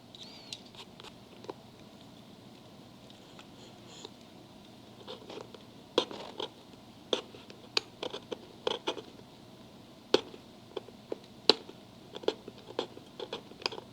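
Faint crackling and sharp little ticks of cracked coating being peeled and picked off a Nike Air Force 1 sneaker without a hair dryer, scattered irregularly over a quiet background, growing busier midway.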